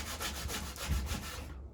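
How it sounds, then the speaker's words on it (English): Hand sanding on a carved wooden sea trout gives a close, steady rhythmic rasp of repeated strokes across the wood, heard alone. "By the time I'm done sanding this trout"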